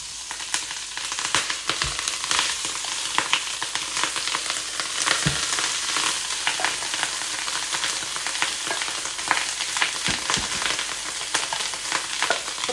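An egg fries in a little cooking oil, giving a continuous bright sizzle with scattered pops and crackles throughout, close and steady with no talking.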